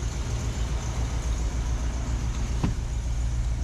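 A car engine fitted with Holley Sniper 2 fuel injection idles with a steady low rumble, close and continuous, with one brief click partway through and no talking.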